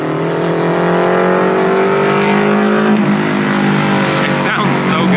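A K-swapped Chevrolet S10 pickup with a four-cylinder engine runs loud and close, its exhaust note revving up and then dropping back. Brief sharp noises near the end, with voices partly heard over the engine.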